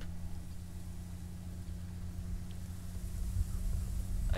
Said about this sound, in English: I hear Jeep.